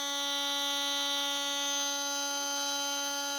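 Electric RC drag racing motor with freshly replaced bearings spinning at 33,000 RPM, a steady high-pitched whine with a constant tone, close and alone.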